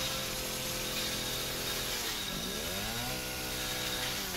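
A chainsaw in the survival horror game Resident Evil 7 runs continuously and loud, its engine note dipping and then climbing back up in pitch partway through.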